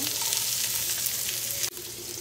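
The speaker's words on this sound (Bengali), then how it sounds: "এখন আরেকটু তেল দিয়ে দিব, এর মধ্যে রসুন পেঁয়াজ ভেজে নেব।" Garlic and chopped onion sizzle steadily in hot oil in a pan for beef noodles, a dense continuous frying hiss with a brief dip near the end, and no voices.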